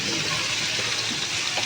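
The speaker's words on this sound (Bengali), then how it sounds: "মশলাটা কষানোর জন্য মশলার বাটিটা ধুয়ে একটু জল দিয়ে দেবো" Water splashes steadily as a spice bowl is rinsed and poured into a cooking pan, a continuous close trickle and slosh with no pauses.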